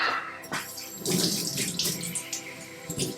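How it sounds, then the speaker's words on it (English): Hands are washed under a running kitchen tap, a steady close splash of flowing water with brief bursts where the stream hits the hands and sink, no talking. "Let me wash my hands."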